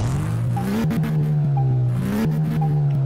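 A Porsche 911 RS America engine in Car Mechanic Simulator 2018 revving steadily, a loud continuous drone that rises and dips in pitch through gear changes, with no talk over it.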